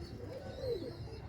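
A fantail pigeon gives a single soft, low coo that swells briefly over a faint, steady background hum.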